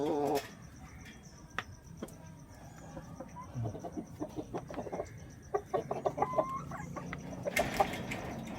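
Domestic hens clucking in a backyard coop, with soft intermittent clucks that grow busier and louder toward the end, over faint steady background hum.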